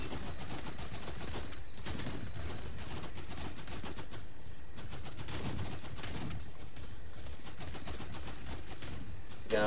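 Sustained automatic gunfire in a virtual reality shooter game rattles loud and dense throughout, in continuous bursts with brief lulls.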